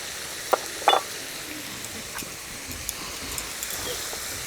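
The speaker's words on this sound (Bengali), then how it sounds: "এবার মশলাটাকে ভালো করে কষাতে হবে।" A spice paste of Kashmiri chilli, cumin powder and salt sautéing in a pan for tengra fish with black cumin seeds, a steady low sizzle with a couple of sharp scrapes near the start, with no talk.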